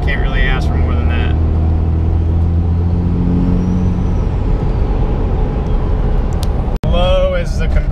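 A compound-turbo Cummins diesel engine revs and spools with a deep, loud, steady rumble and rising turbo whine, then a sharp break and renewed whistling toward the end.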